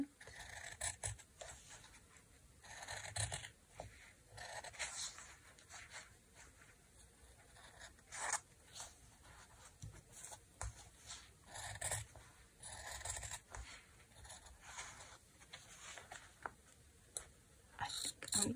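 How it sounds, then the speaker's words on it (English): Paper scissors snip through a large envelope in a run of short, crisp cuts with rustling paper between them, close and fairly quiet over a soft room background. "Using scissors that are meant for paper, but somehow I'm managing"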